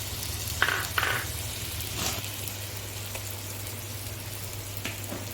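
Onions and slit green chillies frying in oil in a pan, a soft continuous sizzle with a couple of early spatters and clicks, steady and fairly close, with no voices.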